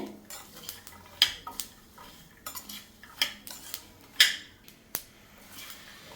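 Sesame seeds and dry fruits dry-roasting in a pan, stirred with a spoon: repeated scraping and clinking strokes against the metal in an irregular rhythm, close and moderately loud, with no voices.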